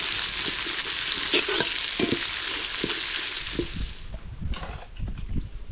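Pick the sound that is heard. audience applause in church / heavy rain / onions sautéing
onions sautéing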